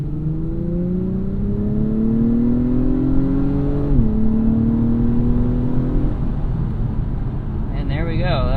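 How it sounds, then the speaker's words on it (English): A 2021 Acura TLX Type S with a 355-horsepower turbo V6, 10-speed automatic and all-wheel drive pulls hard up to 70 mph, its engine drone rising steadily through the gears with a shift midway, heard loudly from inside the cabin. "That was up to 70 miles per hour. Really nice and strong acceleration."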